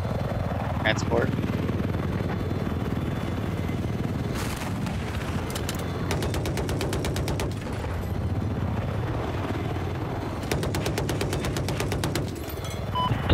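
An enemy helicopter in the video game Battlefield 4 churns beneath rapid bursts of machine-gun fire and occasional booms, the rotor rumble steady throughout while a voice occasionally speaks over the combat.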